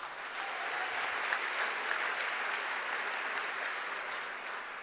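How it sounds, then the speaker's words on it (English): An audience applauding at the Hispanic Federation Awards, a dense sustained wash of clapping that holds steady and fades slightly at the end, heard from within the hall. "Let's give him a round of applause."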